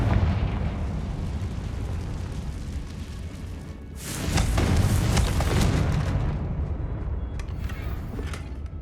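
A Confringo fire spell explodes in the Hogwarts Legacy video game, a loud broadband burst around the four-second mark that swells into a sustained roaring blast over a rumbling game background before fading.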